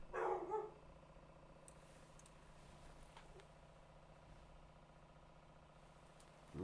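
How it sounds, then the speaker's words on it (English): A dog barks briefly in a short burst at the start, fairly close, then a steady low background hum continues with faint household noise. "I'm gonna go see what she barking at."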